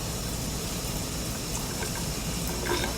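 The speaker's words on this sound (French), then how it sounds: "Encore une douche dans le noir." Shower water runs in a dark bathroom inside the video game Once Upon A Mind: A Little Too Friendly, a steady, close splashing stream that continues without a break.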